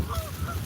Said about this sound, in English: Let me see what the geese want.